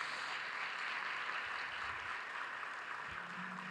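A church congregation applauds the Lord Jesus, a steady faint wash of clapping filling the room with no voice on top, distant and even throughout.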